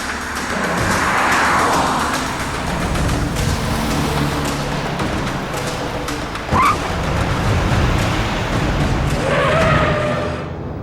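A car driving along a deserted road, a steady engine and road rumble at close range with a brief swish and soft tonal drama-style background sounds.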